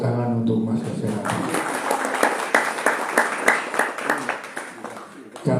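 Applause at an Islamic religious gathering marking a memorial anniversary: a voice is heard briefly at the start, then rhythmic, fairly close claps fill the middle and fade near the end.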